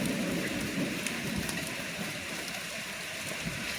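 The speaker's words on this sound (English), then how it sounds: "I just saw some like a quarter size, I don't know, dime-sized hail." Heavy rain mixed with dime-sized hail pounds a roof during an intense thunderstorm, a dense, steady, close roar of impacts with no letup.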